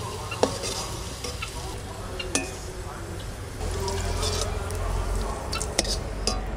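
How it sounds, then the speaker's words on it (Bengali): Potatoes frying in oil in a pan, with a steady sizzle, occasional sharp metallic scrapes and clinks from stirring, and a low hum running underneath. "আলুগুলো সুন্দর করে ভেজে নিয়েছি"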